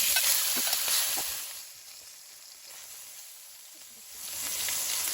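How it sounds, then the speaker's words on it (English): Fish sizzles in hot oil in a pan as Guyanese fish cakes cook. The hiss is loud at the start, dies down to a low bubbling, then rises again near the end, with no talking. "Now once my oil heats up, I'm going to add my fish in."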